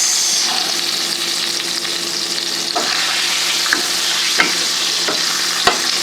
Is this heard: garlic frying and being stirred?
yes